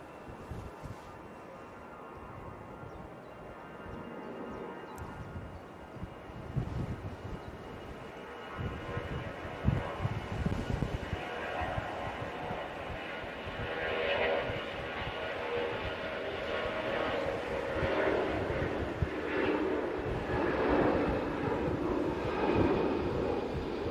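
Aircraft bound for Frankfurt at Manchester Airport on a windy day, a steady broadband roar that builds gradually and rumbles throughout, with gusty wind buffeting the microphone.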